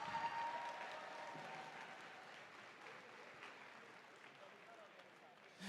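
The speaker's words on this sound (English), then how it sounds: "Can we get a big round of applause for Kanan Hahn?" Distant, faint crowd applause in a large arena at a FIRST Robotics district competition in Ann Arbor, steady for about six seconds.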